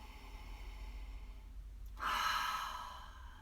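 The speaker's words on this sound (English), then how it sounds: "I take 3 lovely deep breaths" A deep relaxation breath, one long audible inhale or sigh drawn in close and clear over a quiet background, with no talking.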